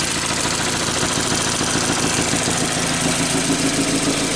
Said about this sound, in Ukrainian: моторчик працює тихонько